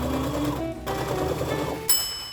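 A sewing machine stitches around the armhole of a dress, starting at the facing, with a steady close mechanical whir that runs throughout and briefly shifts in tone near the end.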